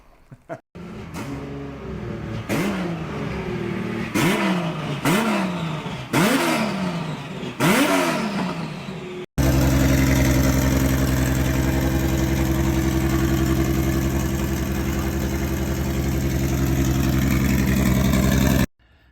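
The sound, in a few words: race car engine revving and warming up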